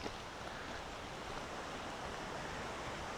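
The Coosa River flows below a trail beside a bike path, heard as a steady broadband rush of moving water, continuous and even, with no voices over it.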